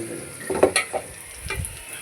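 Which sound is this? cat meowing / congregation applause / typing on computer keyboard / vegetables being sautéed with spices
vegetables being sautéed with spices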